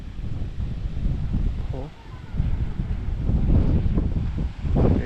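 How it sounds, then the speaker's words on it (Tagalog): Strong wind buffets the microphone in loud, uneven gusts on a foggy, cold view deck, with a voice speaking briefly beneath the rushing noise. "Ang lakas ng hangin oh."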